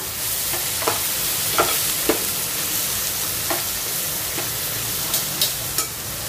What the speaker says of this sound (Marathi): आता व्यवस्थित आपण सगळं आपले मसाले परतून घेऊया छान।